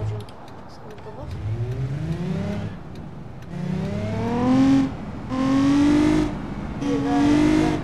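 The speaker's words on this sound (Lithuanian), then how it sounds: "Yra antras variklis, kitaip jisai skamba" A car engine revs in a series of rising, whining pulls, each climbing in pitch and then dropping back, heard close and fairly loud with talk in between.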